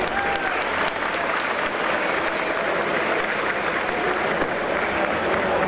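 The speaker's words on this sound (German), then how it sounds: "Nochmal einen großen Applaus" Audience applause at a Blizzard costume contest on the Gamescom 2014 stage, a dense steady clapping from a large crowd that holds at full strength for about six seconds with a faint voice underneath.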